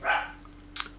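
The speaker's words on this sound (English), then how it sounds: "my dogs are really in tune to that, so they're barking like crazy" Dogs bark indoors, a loud burst at the start and a sharper bark near the end, with a faint steady hum beneath.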